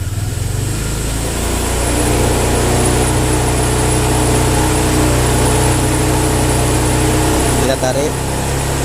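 A Honda Vario scooter with delayed throttle response revving, a steady mid-pitched engine drone that rises and holds, loud and close, with a brief dip near the end.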